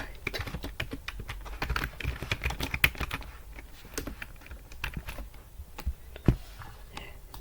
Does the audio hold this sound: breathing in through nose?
no